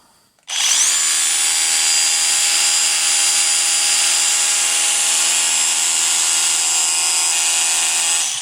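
A Bosch GBH 180 LI cordless rotary hammer drill in hammer drill mode starts abruptly and runs steadily at high speed, a loud, even buzzing whine that continues without load until the end.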